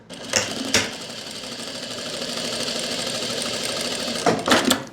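A sewing machine stitches pleats into palazzo pants, running in one steady close whir for several seconds, with sharp clicks near the start and again at the end.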